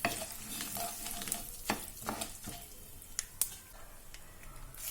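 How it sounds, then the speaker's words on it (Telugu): Dried red chilies, curry leaves and asafoetida fry in hot oil for a tempering, giving a soft steady sizzle broken by a few sharp crackles and pops. A spoon stirs the pan now and then. "ఎండుమిరపకాయలు వేగిన తర్వాత కొద్దిగా కరివేపాకు వేసుకొని వేయించుకోవాలి."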